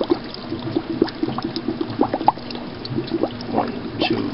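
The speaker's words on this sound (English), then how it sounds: "We're gonna fill it up again with water." Water pours and gurgles into a container during a KOH HHO test, a steady close trickle with small splashes and bubbling.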